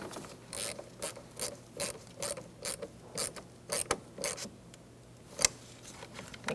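Ratchet wrench clicking in a series of short, rhythmic bursts while tightening the positive battery terminal on a 2012-2018 Ford Focus, close and fairly loud, with one sharper knock near the end and no talking.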